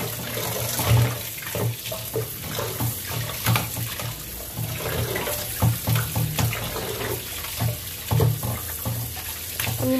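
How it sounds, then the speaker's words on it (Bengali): Raw pork being washed under a running tap of warm water, a steady close stream with splashy bursts and soft thumps as the meat is handled in the sink, no speech. "2-3 বার এরকম রানিং ওয়াটারে ভালোভাবে ধুয়ে নেব।"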